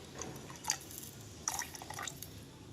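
Water and milk pour into a pan for sago payasam, giving soft, faint splashing and dripping sounds with a few brief louder trickles in a quiet kitchen.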